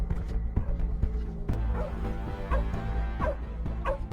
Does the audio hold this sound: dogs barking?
yes